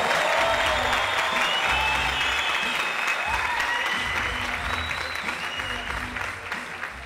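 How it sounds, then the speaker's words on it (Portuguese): An audience at a live comedy show applauds as a comedian is called to the stage, a dense burst of clapping with some cheering, loud at first and slowly tapering off. "Eu quero vocês, uma salva de palmas agora pra ele."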